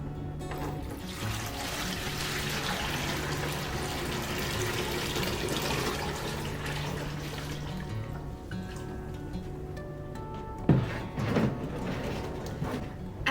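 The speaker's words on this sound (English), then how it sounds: "So I'm going to remove the remaining water that we have in our SucSeed garden right now." Water splashes and gurgles steadily out of a SucSeed hydroponic garden container for several seconds, then tapers off, followed by a couple of sharp knocks near the end.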